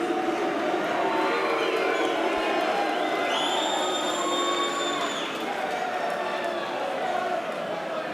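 A pool hall crowd at the 2016 Mosconi Cup reacts to a missed 9-ball combination with a steady, close murmur and a thin, sustained whistle-like tone. A commentator talks over it.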